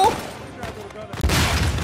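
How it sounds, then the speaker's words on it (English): A blast in the Uncharted 4 video game: a sudden loud burst about two-thirds of the way through, with the blast and its debris rumble running to the end, over a dense game soundscape and some background voice. "He blew himself up."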